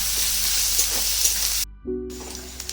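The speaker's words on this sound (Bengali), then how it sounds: "এর মধ্যে আদা রসুন লঙ্কা জিরে পেস্টটা দিয়ে দেবো এটাকে একটু ভালো করে ভেজে নেবো" Ginger, garlic, green chilli and cumin paste fries in a pan, a close steady sizzle with faint stirring taps, broken by a brief gap before the sizzling resumes.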